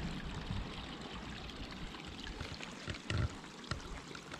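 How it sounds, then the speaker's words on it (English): Mountain water running out of a PVC pipe outdoors, a steady soft rushing trickle with faint splashes, continuous and fairly quiet. "Water just coming down off the mountain."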